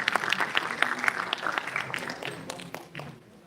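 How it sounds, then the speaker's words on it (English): An audience at an online valedictory session applauds a guest, a burst of clapping from a modest group that is fairly close and thins out toward the end, with a slight bump of sound at the very end. "I request all the audience to please kindly applaud for sir"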